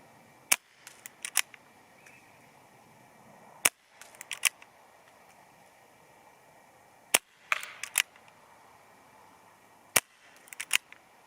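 Umarex Ruger SuperHawk air pistol fired at a 25 m range, sharp isolated cracks spaced several seconds apart, some followed by a few lighter clicks or rattles from cocking and handling, with a quiet background between shots.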